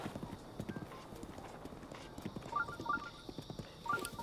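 A horse in the video game Zelda Breath of the Wild trots with quick rhythmic hoof clip-clops at close range, joined by a few short chiming game effects partway through and again near the end.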